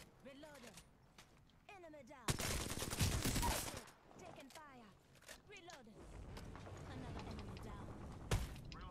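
Gunfire from an Apex Legends match: a dense burst of automatic fire dominates the middle, with another sharp burst near the end, amid clicking weapon handling and excited voices talking over the action.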